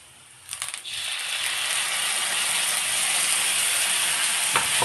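Taro leaf paste hits a pan of browned onions with a sudden loud sizzle that settles into steady, close frying hiss, a few clatters and scrapes at the start, and no voices.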